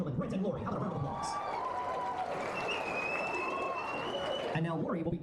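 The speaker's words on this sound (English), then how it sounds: "Ladies and gentlemen, Brent and Lori, how about a round of applause?" Wedding guests at a reception at The Company Stables applaud the couple; dense, steady clapping runs the full length, blended with background music and chatter.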